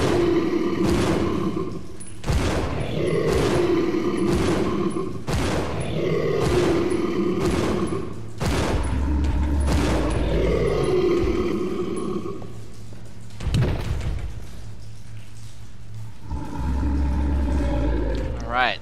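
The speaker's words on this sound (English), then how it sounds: "it took 11 shots from the regular Magnum to take down the Proto-Tyrant" Regular Magnum revolver fired repeatedly at the Proto-Tyrant in Resident Evil Zero HD Remaster, a series of heavy booming shots spaced a second or so apart, each followed by monster growls and impacts, loud and close.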